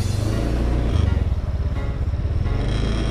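Automatic scooter motorcycle riding slowly through zigzag practice, its engine a loud close steady putter with a slight rise in revs.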